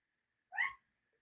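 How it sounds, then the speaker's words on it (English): A single cat meow, fairly close and clear, rising and falling briefly in an otherwise quiet room. "here's the cat again. I know you hear him."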